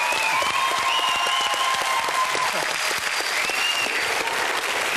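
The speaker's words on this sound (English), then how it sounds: "I'd like you to rise for this man and give him a big hero's cheer" A studio audience applauds and cheers for a hero, a loud, sustained roar of clapping with whoops and whistles rising above it, continuous and unbroken.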